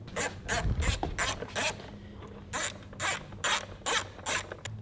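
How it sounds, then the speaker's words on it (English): A T25 Torx driver backing out bezel screws on a 2023 Harley-Davidson Road Glide, a series of short ratcheting clicks repeating in regular bursts, close and clear with no talk over it. "You need to take off these two bezel screws on the side."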